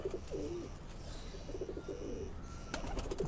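Teddy pigeons in a loft give soft, repeated low coos in several short phrases, fairly near, over a steady background hiss with no talking.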